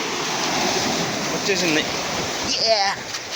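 Sea water rushes and surges through a narrow gap between rocks on a rocky shore, a loud, steady broadband wash. A voice talks briefly over it partway through.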